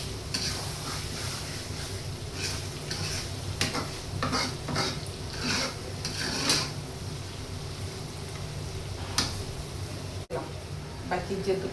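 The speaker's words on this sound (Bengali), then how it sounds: "একটু এরকম ভালো করে নেড়ে ছেড়ে একটু আমরা কষিয়ে নেব, যাতে মাংসের ভিতর মশলাটা ঢুকে যায়।" Spiced chicken, to be finished with milk, is stirred and sautéed in a pan, with a steady close sizzle under repeated scraping strokes of a spoon, plus a few clinks of cookware.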